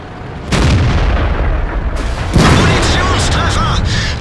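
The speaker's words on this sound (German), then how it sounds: "Munitionstreffer!" Ammo rack hit on a tank in World of Tanks: a loud, heavy boom and rumbling impact, followed by a second blast layered with metallic ringing and game sound effects, continuous and close.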